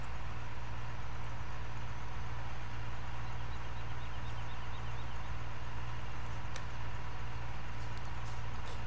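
A T600 truck drives in a farming video game, giving a steady, low engine drone that holds constant throughout with no talking.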